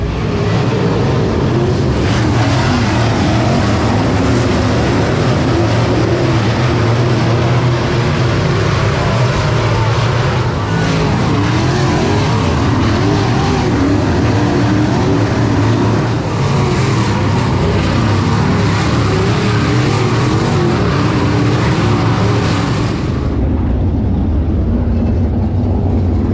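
Race cars roll out for a B main at a racing event, their engines making a continuous loud rumbling drone with rising and falling revs for about twenty seconds before the noise drops away.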